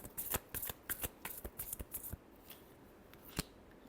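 Tarot cards are shuffled in a rapid series of crisp riffling snaps and flutters for about two seconds, followed by a few scattered softer card flicks and one final sharp snap, close and fairly quiet with no talking.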